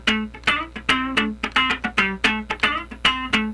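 Funk rhythm guitar plays a straight-feel, fairly quick one-bar pattern, with crisp chord stabs and muted scratches repeating in a tight, steady groove, close and clear with no talking.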